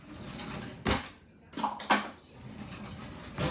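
Metal kitchen utensils being swapped as a spoon is put down and a whisk picked up, a few sharp clinks and clatters spaced out over a quiet background.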